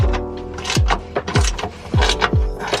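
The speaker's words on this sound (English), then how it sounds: "Now I'm just gonna take these bolts out." Motor mount bolts coming out on a 9th-generation Honda Civic Si, with a quick run of ratcheting whirs and metallic clicks in bursts about half a second apart, loud and close with no talk.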